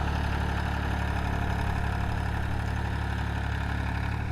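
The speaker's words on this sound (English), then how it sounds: "A farmer brought his tractor out here and is clearing it down for us." A farmer's tractor engine runs steadily while clearing ground at an old ash dump site, a constant low idling rumble with vibration, fairly loud and unbroken throughout, with no voices.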